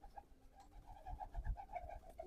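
Faint, soft cooing from pigeons, a repeated low throaty murmur in short rhythmic pulses, heard quietly and close with no talking over it.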